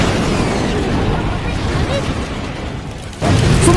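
A rumbling, crackling blast sound from a video game, with a sudden louder burst near the end and some speech-like noise mixed in.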